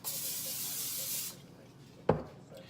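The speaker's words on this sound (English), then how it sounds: "I spray it with a little Pam" A steady broadband hiss of Pam cooking spray onto a foil-lined cookie pan lasting about a second, then quiet with a single sharp tap or clunk near the end.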